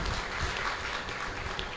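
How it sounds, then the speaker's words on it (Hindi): An audience at a live Hindi talk applauds for the children, a dense burst of steady clapping filling the hall at moderate distance, with no voices over it. "मैं चाहती हूँ उन बच्चों के लिए तालियां बजा दीजिए"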